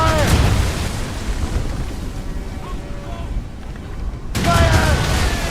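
Ship cannons in Assassin's Creed Rogue pound as a naval fight goes on, with heavy booms at the start and again near the end over a rumbling, roaring din. Shouted voices are mixed into the battle.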